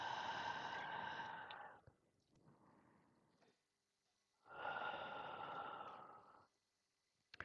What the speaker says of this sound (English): I'm going to just close this circle by taking 3 deep breaths with you.